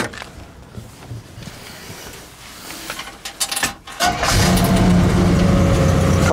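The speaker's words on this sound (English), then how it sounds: "Car starts excellent." A 1968 Oldsmobile Cutlass S is cranked and fires up: a few seconds of quiet rustling and a starter whir, then the engine catches and settles into a loud, steady idle.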